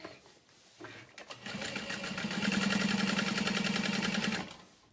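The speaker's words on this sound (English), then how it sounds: "just sew it like 1/8 of an inch around the edge" A sewing machine stitches around the edge of a leather clutch wallet. The motor starts up and runs in a steady, loud, even whir for about three seconds, then stops. Nobody speaks over it.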